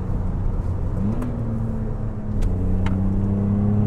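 BMW Z3 Coupé engine pulling hard through the gears, with a steady rising drone, a clear gear change near the middle and then climbing revs again, loud and close with no talk.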